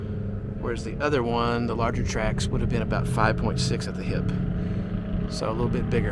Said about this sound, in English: Got a bunch of side-by-sides going up the hill here.